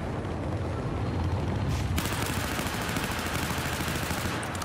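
Dense, continuous machine gun fire rattles throughout a Battlefield 4 match, loud and close, with heavy booming rumble underneath and no clear speech.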